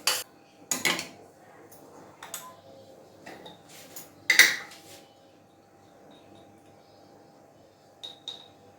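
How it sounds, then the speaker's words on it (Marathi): Food stirred in a cooking pot while making rajma: scattered metallic clinks and scrapes of a spoon against the pot, a few louder knocks between quiet stretches, close by with no voices. "छान असं हलवून घ्यायचं"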